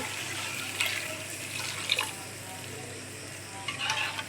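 Meat dropped into hot oil with spices for a Bengali curry, giving a steady sizzle with stirring and clinks of a utensil against the pan, close and moderately loud with no talk.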